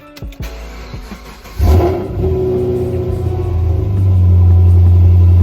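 A Chevrolet Camaro V8 engine cranks with a few clicks on a cold start, then catches and roars to life, settling into a deep, loud, throaty idle that swells slightly.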